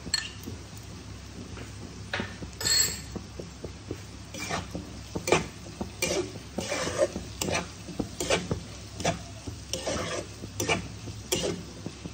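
Chopped garlic and green chillies frying in a pan for a Bombay duck fish curry, a soft sizzle under repeated stirring clicks and scrapes of a spatula against the pan, fairly quiet with no talk.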